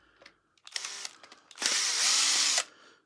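A power drill driver backs tiny screws out of a Shark Flexology cordless vacuum wand in short whirring bursts, ending in one longer close, loud run.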